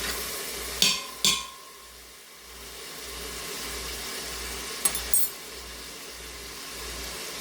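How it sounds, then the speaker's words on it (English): A beef mixture for beef on weck sizzles softly and evenly in a pan, broken by a couple of sharp scraping stirs near the start and again midway. "So that's gonna get all stirred up in there. And I'm gonna cook it for 1 minute."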